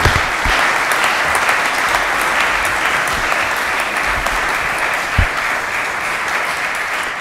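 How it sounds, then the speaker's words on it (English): An audience at a lieutenant governor candidates debate at a law school gives a sustained, dense round of applause that stays loud and even for about seven seconds. "join me in giving a round of applause for our candidates and moderator and panelists"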